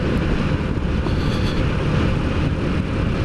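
Astor engine droning steadily while driving on the road, a loud continuous low rumble with road and wind noise inside the cabin, no talk.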